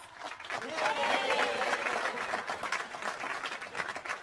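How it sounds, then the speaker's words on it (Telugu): Applause and clapping from a small group of friends celebrating a couple's successful romance, a dense, steady patter of many hands rising quickly and holding at moderate loudness for several seconds. "క్లాప్స్"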